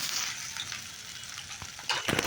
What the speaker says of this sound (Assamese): এতিয়া ইয়াতে দিম কাটি লোৱা চজিনাখিনি।